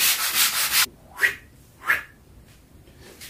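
Hand sanding a white painted wooden door: a steady, close rasping scrub that stops abruptly, followed by two short, separate rubbing strokes and faint scraping.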